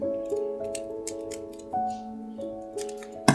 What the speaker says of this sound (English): take your scissors, cut a little piece